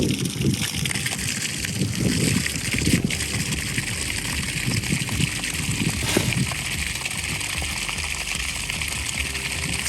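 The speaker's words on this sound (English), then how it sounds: "First drink of water from the well." Water drawn from a newly dug well splashes and sloshes steadily, a continuous close wash of gushing and trickling with occasional louder splashes.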